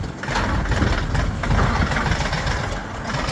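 A steady, loud diesel tractor engine rumbles continuously, low and close, with a rough droning texture throughout.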